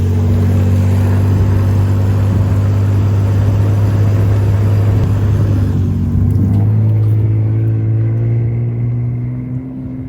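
Lifted Toyota Tacoma engine droning steadily under load while climbing off-road in two-wheel drive, a loud continuous low hum that eases and shifts pitch near the end.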